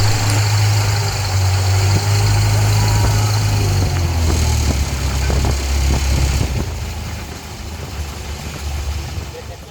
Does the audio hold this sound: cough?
no